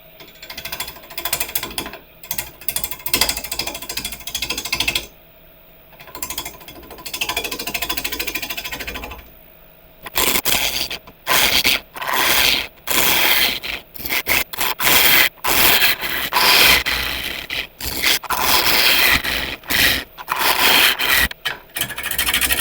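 Woodturning gouge hollowing the end grain of a holm oak blank on a lathe: loud, rough grinding and scraping in long bursts, broken by short pauses when the tool is lifted from the spinning wood.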